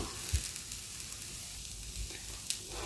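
A gram flour dosa fries on a pan with its second side browning, giving a soft, steady sizzle with a couple of faint clicks and no voices.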